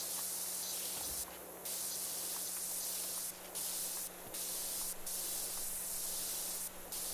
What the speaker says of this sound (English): the white nozzle spraying everything off doesn't do so hot